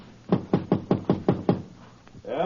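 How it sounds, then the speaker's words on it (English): Seven quick, evenly spaced knocks rap on the wooden door of apartment 2B, close and solid, followed by a short quiet shuffle. "You gonna knock?"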